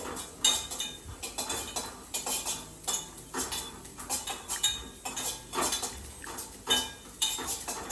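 Cumin seeds roasting in a pan are stirred continuously with a metal spoon, giving rhythmic scraping clinks and taps against the pan in quick repeated strokes, close and clear with no talking.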